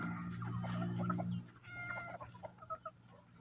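Chickens cluck and chatter close by during feeding on a rainy morning, a dense run of calls first, then scattered short clucks and pecking sounds.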